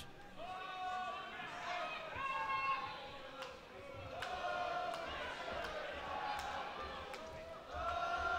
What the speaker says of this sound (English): Crowd showing love for Christopher Daniels.